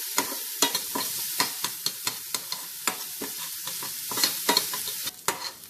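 Shallots frying in a pan for a chicken bread pakora snack, with a bright continuous sizzle broken by frequent sharp scraping stirs at an irregular quick rhythm, close and alone.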